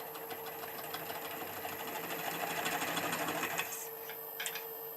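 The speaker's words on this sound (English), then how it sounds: "Because the lathe speed is so low" A lathe turning at low speed, cutting a dish into the bottom of a hole, with a steady mechanical whir and rapid rattling chatter, close and even, with no voices.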